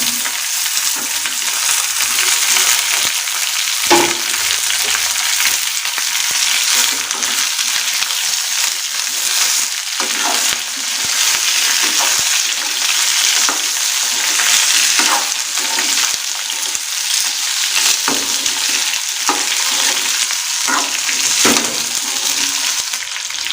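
Ivy gourd sautéed with garlic in a pan, a loud, continuous close-up sizzle of hot oil with occasional scraping stirs, no voices.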